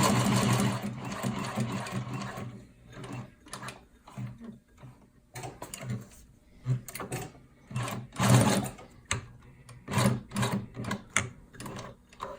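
A sewing machine stitches adjustable material in short, rapid mechanical bursts separated by pauses, close and clear, each run a dense whirring rattle of the needle.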